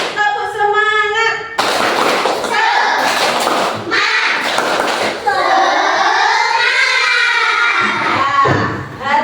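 A classroom of children claps out a rhythmic ice-breaker pattern in bursts, loud and close, mixed with shouting voices and a leading adult voice between the rounds.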